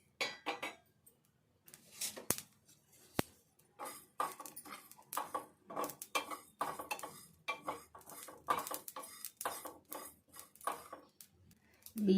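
Rice dry-roasting in a pan for a small-fish curry, stirred with a spatula: a steady run of close scraping, clinking strokes against the metal, repeated in an uneven rhythm throughout.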